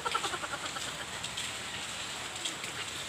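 Steady rain falls at Punta Villa, a soft continuous patter on surfaces with scattered droplet ticks, fairly quiet and even with no talking.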